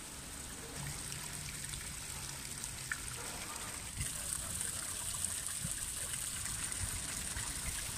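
The Fountain of Neptune in Piazza Navona, Rome, pours steadily, a continuous splashing rush of falling water heard from nearby, with faint voices and outdoor square ambience underneath.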